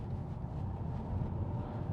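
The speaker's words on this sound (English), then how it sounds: "The 5-cylinder Volvo engine always sounds like a truck to me" Volvo V40 Cross Country 2.0 D3 five-cylinder diesel from 2013 running steadily, a low continuous rumble heard from close by with no talk over it.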